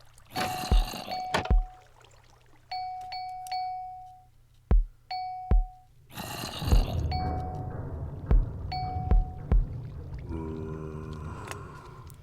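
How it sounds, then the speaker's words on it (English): Minecraft note-block Morse code played as tones: ringing bell notes and short, sharp drum hits spaced irregularly over about twelve seconds, loud and close, with no talking. "I'm pretty sure the bell is the dash and the drum is the dot."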